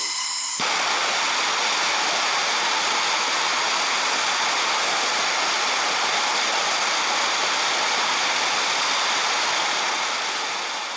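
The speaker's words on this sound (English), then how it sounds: "take my little MAP gas torch and we're going to heat this spark plug up" A MAP gas torch burns while heating a small engine spark plug: a loud, steady roaring hiss that starts abruptly after a brief click and continues unbroken, close and constant throughout.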